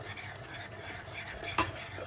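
A steady scraping, swirling sound of a spoon stirring in a pot, with a brief sharper clink near the end.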